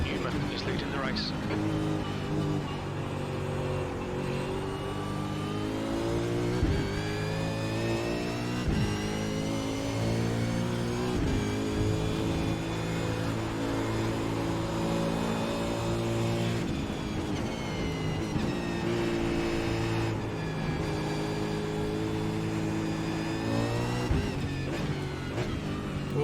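Race cars drive in a race, engine tones rising and falling steadily throughout with passing whines and revs, loud and continuous beneath a commentator talking.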